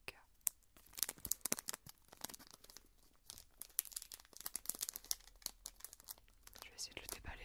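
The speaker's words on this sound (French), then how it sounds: "Je vais essayer de le déballer sans faire trop de bruit" Christmas gift paper being slowly unwrapped and torn close by, a quiet stream of crinkling rustles and soft tearing bursts with brief pauses, handled gently to keep the noise down, with faint whispering in places.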